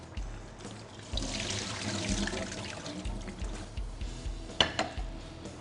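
Cabbage is rinsed in water, with close splashing and sloshing plus a few light clanks of a bowl or pan, moderately loud and steady over several seconds, with no talk.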